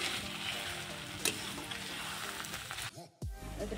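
Spices sizzle and crackle in a hot kadai while being stirred, giving a dense continuous frying hiss with a few scraping knocks near the end, close and fairly loud, with no voices.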